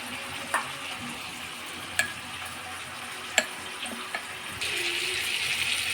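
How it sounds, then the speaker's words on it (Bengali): Spice paste of ginger, turmeric, cumin and coriander mixed with water goes into a pan with prawns and cabbage and is stirred, giving a soft sizzle with a few sharp spoon clinks against the pan and a rising hiss near the end. "এবারে মশলাটা দিয়ে দিলাম, দিয়ে ভালো করে একটু নেড়ে নেব।"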